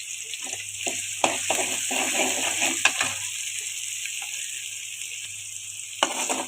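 Chopped onions fry in a pan with a soft, continuous sizzle, heard close, with scattered stirring scrapes and a few sharper clinks of the spoon against the pan.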